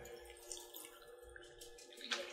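Tap water runs steadily into a container, a soft continuous splash with faint ringing tones in the background and no talking.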